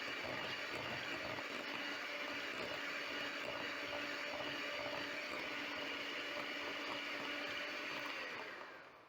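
An electric hand mixer whips margarine in a bowl, giving a steady, continuous motor whir with a scraping texture. It runs alone for about nine seconds, then winds down at the end.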